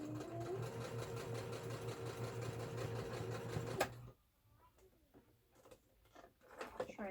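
A basic home sewing machine stitches a fabric bear in a fast, steady mechanical whirr with a rhythmic clatter, stopping abruptly partway through, followed by quieter handling clicks and fabric rustles.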